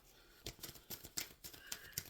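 Tarot cards shuffled by hand close up, a quiet run of quick papery riffles and soft flicks in an uneven rhythm.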